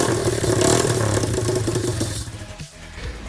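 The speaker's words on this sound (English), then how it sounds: "Well, this one does actually run like this," A pitbike engine with no rear muffler runs loud and raw, a rough clattering mid-pitched drone that eases off briefly near the end.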